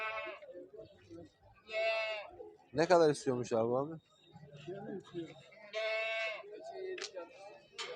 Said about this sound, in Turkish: Şimdi size pazarda sıradan bir halap keçisini çekelim.